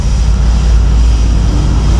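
A Kawasaki Z650 motorcycle with about 12,000 km on it rumbles with a loud, deep, continuous engine and exhaust drone, steady and close, with no speech.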